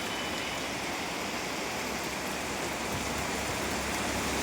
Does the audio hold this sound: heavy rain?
yes